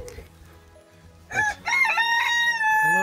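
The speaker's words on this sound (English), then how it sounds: "I see here chickens in there." Rooster crowing loudly and close on a farm in Castelo Branco, one long drawn-out crow with chickens clucking softly around it.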